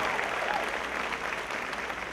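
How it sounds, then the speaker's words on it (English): A crowd applauds the president of a university at a political rally in South Carolina, a steady wash of clapping that holds at an even level for about two seconds with no distinct voices. "Would you give President Benson a rousing round of applause, please?"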